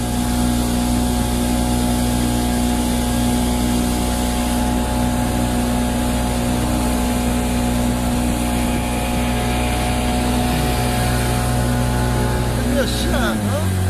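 Rescue boat engine running hard at full throttle, a loud, steady droning roar with strong low hum that holds throughout and drops suddenly at the very end.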